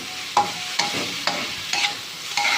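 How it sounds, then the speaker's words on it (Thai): Minced pork and chili stir-fried in a pan, with five sharp spatula scrapes and clanks at a brisk, regular pace over a continuous sizzle, close up and with no voices. "มาผัดผัดผัดพริกนะคะ"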